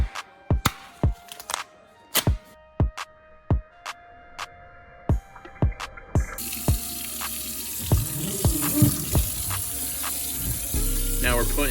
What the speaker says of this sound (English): Now we're putting hot water in here